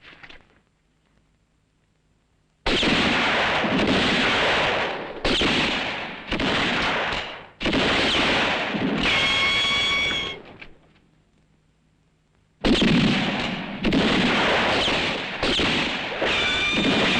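Gunfire from a Western film shootout, a dense series of loud, broadband bursts in clusters that fill most of the clip, separated by brief quiet gaps.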